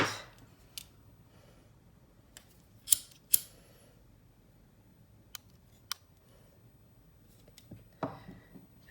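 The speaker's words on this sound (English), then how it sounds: "I'm going to take my flesh cutters and cut that." Flush cutters snip beading thread on a pair of earrings, giving a few sharp, close clicks spaced across a quiet stretch with no talking.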